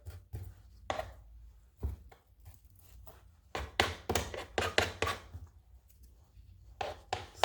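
A kitchen knife chops green onions finely on a cutting board, with irregular clusters of quick, crisp taps separated by short pauses, close and clear with no talking.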